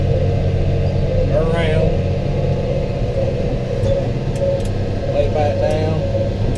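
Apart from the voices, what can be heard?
Kubota tractor engine driving while raking hay windrows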